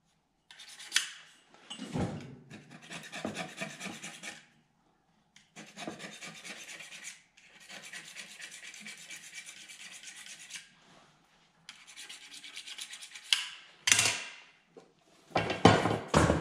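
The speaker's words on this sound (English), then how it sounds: "What I'm going to do now is clean the bottom of these U-joint cups off real good." The bottoms of steel driveshaft U-joint cups are cleaned with a hand tool in a home garage, producing repeated rough rasping and scraping strokes in several bursts with short pauses and a few sharper knocks between them.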